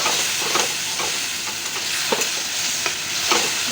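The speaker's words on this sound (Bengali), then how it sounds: "মশলাটাও একটু হালকা করে লাল লাল করে ভেজে নেবো" Spice paste frying in a pan for a fish dish, a continuous sizzle broken by repeated scraping stirs, moderately loud and close, with no talking.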